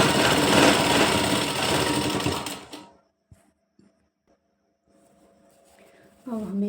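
A sewing machine stitches a kurti sleeve in a loud, fast, continuous whir for about three seconds and then stops, leaving near silence with a few faint clicks before a voice begins talking.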